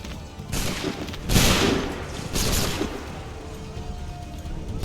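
Musket volleys ring out in an Assassin's Creed 3 battle, several loud, dense bursts of gunfire with rolling crackle between them, close and heavy, no talking over them.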